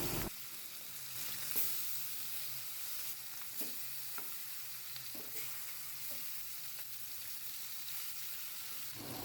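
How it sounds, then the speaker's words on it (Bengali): Marinated koi fish (climbing perch) frying one by one in hot white oil in a pan, a steady close sizzle with occasional crackles and pops, no voices. "একটি প্যানে 2 টেবিল চামচ সাদা তেল দিয়ে ম্যারিনেট করা কই মাছগুলো এক এক করে গরম তেলে দিয়ে দিলাম।"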